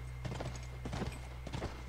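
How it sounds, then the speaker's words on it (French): Horse hooves clip-clop in The Last Of Us video game, a few soft clusters of hoofbeats over a steady low hum, moderately quiet and with no talking. "Ah, il y a le cheval."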